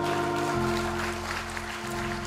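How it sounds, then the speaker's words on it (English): A church congregation claps their hands in praise, a dense steady wash of applause over sustained organ chords, with no talk. "Let's give the Lord a hand clap of praise."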